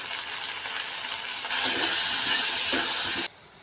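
Brinjal pieces frying in a pan with salt and turmeric give a steady, close broadband sizzle that swells louder midway and then drops off abruptly, with no voices.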